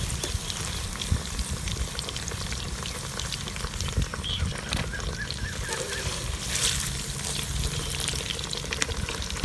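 Okra fries in hot oil with a steady, soft, even sizzle and crackle that runs throughout, with no talking.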